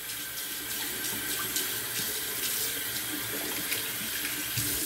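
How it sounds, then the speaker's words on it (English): A bathroom sink tap runs steadily as hair is rinsed from around the basin during a shave, a close, even splashing hiss with no talk. "Let me rinse the hair from around the sink here."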